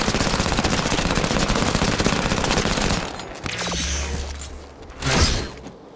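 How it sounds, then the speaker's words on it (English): SMG fire in Halo 5: Guardians, a loud rapid continuous burst for about three seconds, followed by mechanical creaks, a low hum and a thump. "my friend the Little Moa shoots the egg trigger with his SMG"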